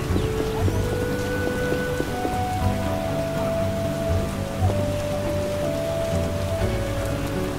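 Rain in the video game The Witcher 1 patters steadily in the foreground while soft sustained musical tones drift underneath.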